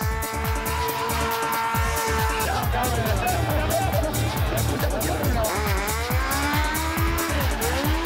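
Stunt driver Terry Grant's car drifts at high speed, its engine revving in rising and falling pulses under long, wavering tire squeals, loud and close, with a narrator talking over it.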